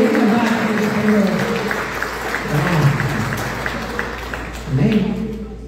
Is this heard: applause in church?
yes